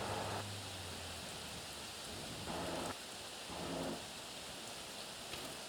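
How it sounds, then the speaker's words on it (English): Steady rain sounds as a broad, even hiss, with occasional soft low rumbles beneath it and no voices. "I think the rain will be stopping very soon."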